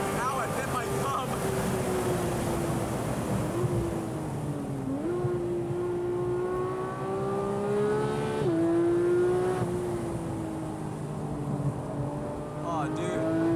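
Porsche 911 991.2 GT3 driven on a race track: a steady, loud engine drone from inside the car, pitch rising and falling through shifts, with wind noise and a person talking over it.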